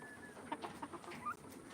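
Black Kadaknath chickens, hens and a rooster, clucking faintly in a few short, scattered calls over a low background hum.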